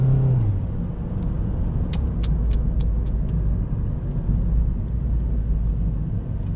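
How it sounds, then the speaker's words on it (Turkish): A 2017 Opel Astra K with a 1.6 CDTI diesel engine spinning its wheels, a loud close engine roar and rumble, with a quick series of sharp squeal bursts from the tires partway through. "Bak nasıl patinaj çekiyor ya."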